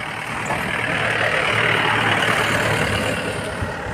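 A pickup truck drives along a rural road in Chhattisgarh, its engine a steady, loud rumble with broadband road and wind noise running unbroken through the whole stretch.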